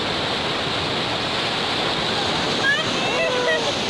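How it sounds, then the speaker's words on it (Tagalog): Continuous roaring wash of large ocean waves breaking on the shore in Oman during a fishing outing, loud and steady throughout, with brief faint voices late on. "Pansin mo malaking alon."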